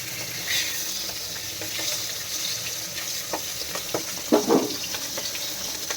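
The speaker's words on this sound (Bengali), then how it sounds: "এবার এখন দেখো মাছটা ভাজাভাজি করছি" Tilapia frying in hot oil in a home kitchen pan, a steady soft sizzle with scattered crackles and a couple of louder spattering pops near the end, with no talking.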